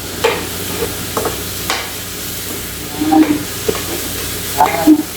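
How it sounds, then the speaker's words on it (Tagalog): Shrimp with heads on sautéed with tomato in a pan for a bottle gourd dish, giving a steady sizzle with stirring scrapes and spatula clinks. "igigisa natin siya sa kamatis."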